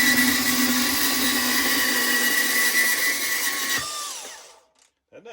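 A Hercules 20V brushless cordless band saw runs at full speed through a cut, a loud close whine with a grinding edge that holds steady for several seconds, then winds down and stops.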